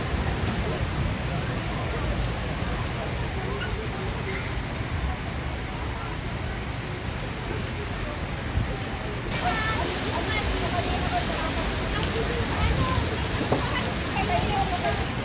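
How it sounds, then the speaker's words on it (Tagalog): Heavy rain pours down at an outdoor grill restaurant, a dense, steady hiss of drops on roofing and surfaces that fills the whole span, constant and fairly loud. "umulan na po ng malakas"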